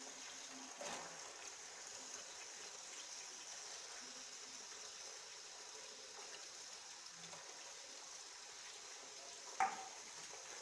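Onions fry in hot ghee in a Pakistani kitchen, a faint, steady hiss and sizzle running throughout with one brief sharp clatter near the end.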